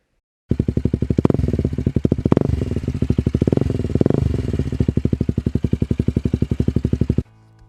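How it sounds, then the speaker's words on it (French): A KTM 125 Duke motorcycle with an Akrapovic exhaust and no baffle runs close and loud, its engine pulsing in a fast, even beat with a few revs rising and falling before it cuts off. "On va donc tout de suite écouter le son de la KTM."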